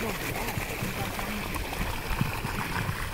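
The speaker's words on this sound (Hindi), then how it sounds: "जब बोरियों के ऊपर से पानी हो जाएगा तब बंद कर देंगे भाई पानी को।" Irrigation water flows over sacks laid on a cauliflower nursery bed, a constant close rushing and trickling wash with faint bubbling throughout.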